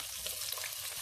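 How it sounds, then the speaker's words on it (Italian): Two crushed garlic cloves sizzle in oil in a pan still hot from searing eggplant, a steady close fry crackling with no voices. "L'aglio sfrigola"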